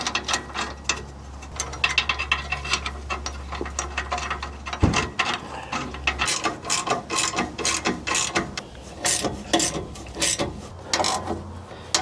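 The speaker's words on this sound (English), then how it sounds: "You just want to tighten this until that gap completely closes, and then just make it snug." A ratchet wrench clicks rapidly in repeated bursts while tightening catalytic converter flange bolts on a 2004 Toyota Tundra, close and crisp, with brief pauses between runs of clicks.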